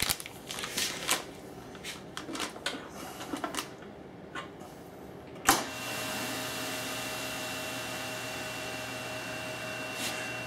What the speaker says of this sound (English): vacuum chamber is going to empty itself or evacuate itself of as much air as it can over the course of a set period of time